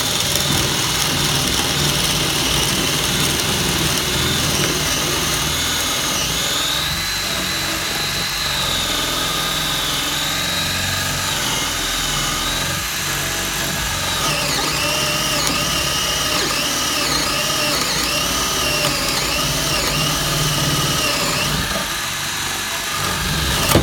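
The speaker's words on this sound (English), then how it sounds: "This will kind of simulate drilling through a top plate." A Ryobi 18V cordless drill with a spade bit whines steadily and loudly for the whole stretch, its pitch wavering as it bites and labors through wood, with no voices.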